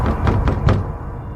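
Someone knocks on a door in a Hindi horror cartoon story, three quick, loud, hollow knocks in close succession followed by a fading resonance.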